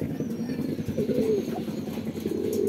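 A hungry pigeon chick that has gone two days without food gives weak, low cooing calls, faint and intermittent against steady room noise, with no talking.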